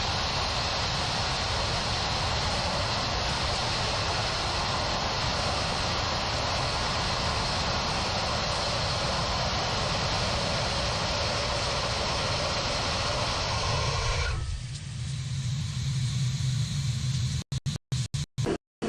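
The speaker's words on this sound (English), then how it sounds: "this that you'll see is a startup of 2 of their Reaver engines" Two Firefly Reaver rocket engines start up in a test firing, a loud sustained roar lasting many seconds before cutting off abruptly, leaving brief crackles and a low residual rumble.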